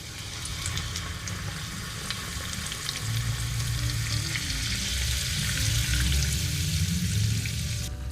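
Hot rendered fat sizzling and crackling in a pan while making chili oil, a steady loud frying hiss with bubbling and occasional stirring, no voices.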